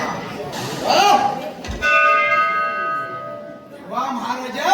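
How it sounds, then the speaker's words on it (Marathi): A bell rung during a devotional gan-gaulan folk performance by a naman troupe rings out with sustained tones over crowd chatter, its ringing lingering for a couple of seconds before voices take over again. "मी घंटा वाजवली"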